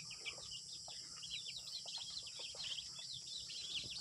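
Chickens inside a coop, heard as faint, distant clucks and chirps over a dense hiss of background noise, with no voices.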